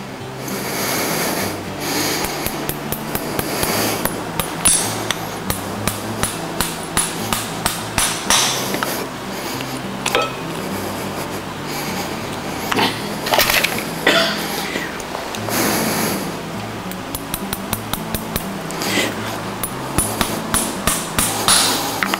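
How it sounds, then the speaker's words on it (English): Hammer driving nails into a Kerckhaert Dura Plain horseshoe on a horse's hind hoof, a steady run of sharp metallic taps in quick bursts, close and loud with brief pauses between nails. "they're more comfortable if you drive your nails with a urethane hammer"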